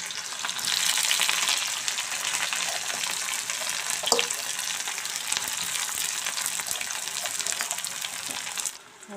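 Hot oil with chili frying in a pan, a bright continuous sizzle with a few soft clicks and clatters, close by and without speech, fading out at the very end.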